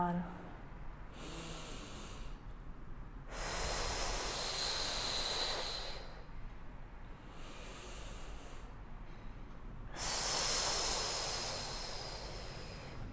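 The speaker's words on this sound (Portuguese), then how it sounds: "penso na minha respiração tridimensional e solto o ar" Slow Pilates breathing in a pregnancy session, with two long audible exhalations rushing out steadily over several seconds, separated by quieter inhalations, close to the microphone.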